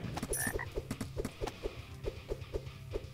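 Frogs croak in the video game Next Hero, a steady run of short rhythmic croaks about four per second, fairly loud over a busy layer of game music and effects.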